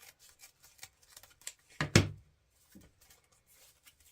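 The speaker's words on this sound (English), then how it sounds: "take your scissors, run that right up into the middle, and cut that in half on each end" Scissors snip through a stack of ribbon for a spring wreath, one sharp close cut after some quiet rustling and handling, with no talk.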